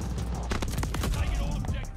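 Burst-fire NZ-41 rifle shots crack repeatedly in Call of Duty: Vanguard multiplayer, in quick successive bursts under a steady mix of game noise and a speaking voice.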